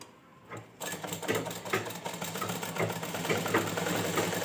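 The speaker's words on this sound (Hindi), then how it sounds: "तो यहाँ पे भी मैं इसी तरह से सिलाई ले लूँगी।" A sewing machine runs in quick rattling bursts while stitching pajama fabric, starting after a brief quiet moment and then chattering steadily and close by.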